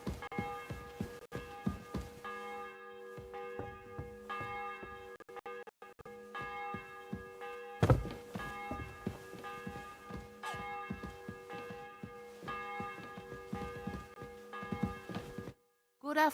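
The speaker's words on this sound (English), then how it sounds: "The bell's ringing for Hans the 5th time." A church bell tolls again and again in a medieval village in Kingdom Come: Deliverance II, its ringing tones overlapping under clattering game sounds and brief knocks, fairly close and sustained.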